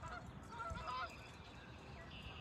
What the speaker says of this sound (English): Some ducks doing their thing.